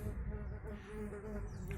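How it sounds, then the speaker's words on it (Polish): Insects, wasps among them, buzz in a garden during a relaxed outdoor cherry snack. The buzzing is a faint, continuous drone heard close by, with no talk. "słuchamy brzęczenia owadów"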